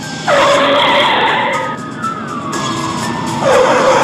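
A vehicle's tires skidding in a loud, sustained screech that bends in pitch, a dramatic sound effect leading into a crash, with no voices.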